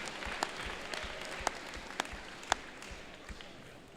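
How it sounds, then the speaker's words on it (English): Audience applause in a large venue during alliance selection at a 2015 PNW FIRST robotics competition in Auburn, soft and distant crowd clapping with a few sharper individual claps standing out. "Please give a round of applause to our number 7 alliance."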